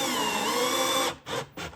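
A power drill whines steadily while driving a screw into a miter saw fence, then stops and starts in two short bursts as the screw seats, loud and close with no talk.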